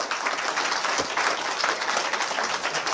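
An audience bursts into sustained, dense applause, steady and loud throughout with many hands clapping at once.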